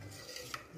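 A spoon stirs beef jerky pasta soup in a pot with soft, quiet scraping and faint clinks against the metal over a low simmer, with no talk.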